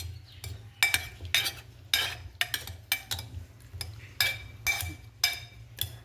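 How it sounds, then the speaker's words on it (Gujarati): A spoon mashes cooked bottle gourd in a pot, making a run of short, rhythmic scraping and clinking strokes, close and moderately loud over a low background hum. "આપણે આ ચમચેથી મેશ કરી દઈએ."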